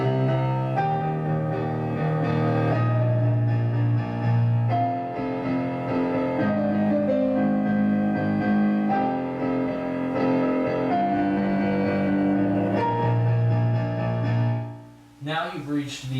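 Piano playing a repeated section of a piece, sustained chords and steady melodic notes rolling on continuously at moderate volume before fading out near the end.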